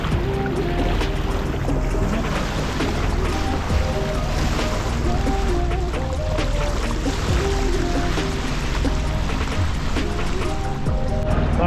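A sailboat's motor runs steadily out on open water, a constant low droning hum mixed with rushing water and wave noise throughout, with no talk.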